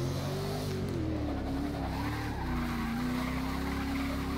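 A Corvette C7R race car in Forza Motorsport 6 squeals its tires through a hairpin turn. The skid is a long sustained wail, steady and close, over the engine's drone.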